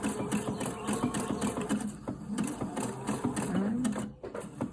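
Domestic sewing machine stitching the side seam of a pair of handmade panties, about a quarter-inch seam, running in a steady continuous whir with brief pauses near the end and no talk.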